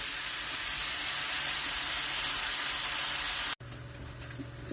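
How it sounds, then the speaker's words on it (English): Partly thawed bacon frying in a pan makes a loud, steady, broad hiss that stops abruptly near the end and returns as a quieter, crackling sizzle. "Our bacon's starting to thaw out and cook."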